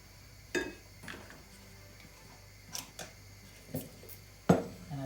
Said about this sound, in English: So I'm just going to stir that very gently, make sure that it melts completely.